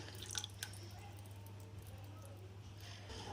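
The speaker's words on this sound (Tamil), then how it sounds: "நம்ம கரைச்சி வச்சிருக்க புளி தண்ணியை இதில் ஊற்றிக்கலாம்." Tamarind water is poured into tomato pickle cooking in a pan, giving soft dripping and liquid splashes over a steady low hum, with a few brief sharper drips near the start and end.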